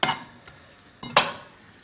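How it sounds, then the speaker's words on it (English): A kitchen knife chops broccoli florets on a board in a few crisp, close knocks and clicks spaced irregularly, with no talk. "I'm just going to cut up the florets of broccoli like this"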